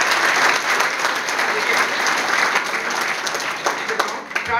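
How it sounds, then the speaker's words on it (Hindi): Children in a classroom clap loudly for a student, a sustained dense burst of applause lasting several seconds, with a voice briefly audible beneath it. "इसलिए ताली बजाएंगे जोरदार बच्चे के लिए।"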